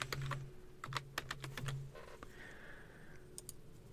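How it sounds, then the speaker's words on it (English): Quiet, close computer keyboard typing with a quick run of separate key clicks, then a few more scattered taps near the end, alone without any voices. "in the command line, I can just hit space and type in the path to my"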